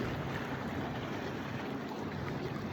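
Boats out on a lake on a sunny, breezy summer day, heard as a low continuous wash of water and distant motor rumble under steady wind noise, with no talking.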